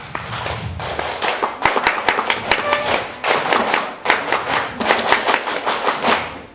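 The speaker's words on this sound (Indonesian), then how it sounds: "2 kali tepuk pramuka." A group performs the rhythmic Pramuka scout clap during a scout orientation session, sharp patterned bursts of hand claps repeated in quick sequences, loud and close, with no talk over them.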